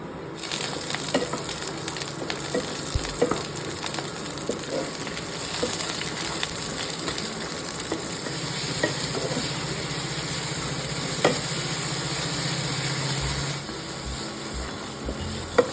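Chow mein cooks in a home kitchen pan, with a long, even frying hiss, a steady low hum running through, and scattered sharp clicks and clanks of utensils; no one speaks.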